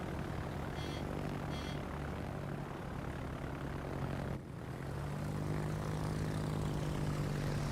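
Propeller aircraft engines droning steadily in the World of Warships naval game, a loud continuous hum with a brief dip midway before the drone resumes.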